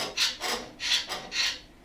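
Paint scraped off metal ahead of welding repair work, four rough rasping strokes in a steady back-and-forth rhythm, close and fairly quiet with no talking.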